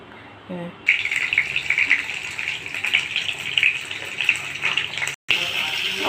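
Hot water poured into a cooking pan after rinsing it, a steady close splashing gush lasting several seconds with a brief break, following a short moment of quiet.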